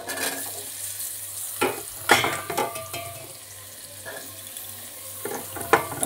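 Chopped onion hits garlic in hot oil and butter for butter prawns, giving a steady low sizzle with sharp clinks and scrapes of stirring scattered throughout. No one speaks.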